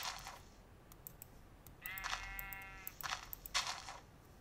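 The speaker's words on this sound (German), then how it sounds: "Ja, das ist ein Schaf." A sheep in the video game Minecraft gives one short, faint, wavering bleat amid keyboard typing and mouse clicks, with no talking.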